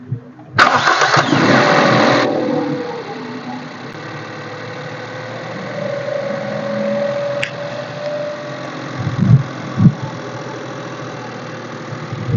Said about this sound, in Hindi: तो चलिए पहले इंजन को स्टार्ट करते हैं